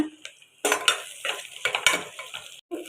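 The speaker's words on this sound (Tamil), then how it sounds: "வெங்காயம் பச்சை மிளகாய் போட்டு வதக்கிறோம்" Onions and green chilies sautéing in a pan for mutton kuzhambu, with close, irregular scrapes and clinks of a stirring spoon over a soft sizzle, loud bursts spaced through the stretch and no talking.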